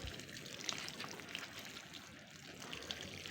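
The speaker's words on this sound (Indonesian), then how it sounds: "caranya kita pakai gembor nih untuk menyiram ya, seperti ini" Water poured from a watering can (gembor) onto a potted plant, a soft steady splashing trickle at close range, faint and continuous without speech.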